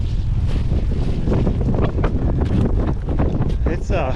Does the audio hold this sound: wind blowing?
yes